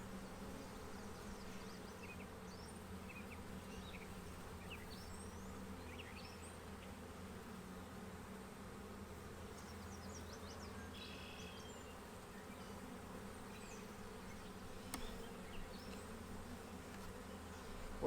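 Honey bees buzz steadily around a hive, a dense, continuous hum with individual bees droning past close by and no talking.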